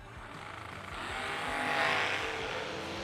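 Dragsters launch at a drag race, a broad engine roar swelling and fading as the cars pull away, somewhat distant and steady over about three seconds.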